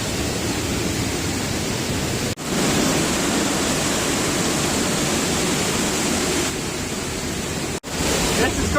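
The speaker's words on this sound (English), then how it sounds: "Trying to get behind the waterfall." Heavy, continuous roar of the large Boardtree Falls in Tennessee, heard up close behind the falling water with mist, broad and steady with two brief dropouts.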